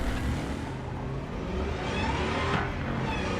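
A car engine in the video game Cyberpunk 2077 hums steadily and loudly with a broad, constant roar that swells slightly toward the end, no voices present.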